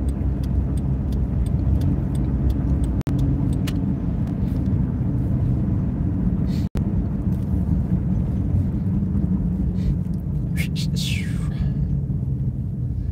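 A car drives through Cheyenne, Wyoming, past retail sites, giving a steady low road rumble throughout with a couple of brief clicks.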